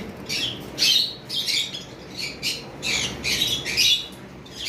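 Pet lovebirds, a violet mask female and a green Fischer's male, squawk and chirp in sharp, shrill bursts, roughly a dozen calls in uneven succession, close by.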